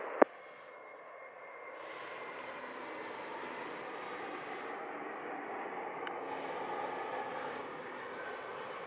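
An airplane at Montego Bay airport in Jamaica produces a steady, broad jet engine roar that swells slightly and holds after a brief sharp click at the start, moderately loud and continuous with no talk.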